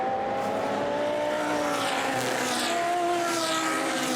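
Audi GT race cars lapping Brands Hatch in a Blancpain GT Sports Club qualifying race, a loud continuous engine roar with rising and falling pitch as the cars pass close by.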